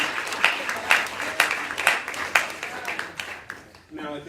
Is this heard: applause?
yes